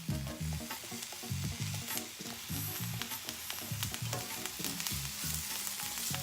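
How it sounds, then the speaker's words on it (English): Mushrooms with sea salt sizzle steadily in a hot pan, a close, continuous crackle broken by repeated stirring and scraping knocks, with no voices. "So after that minute is up, it's time for you to flip your mushrooms."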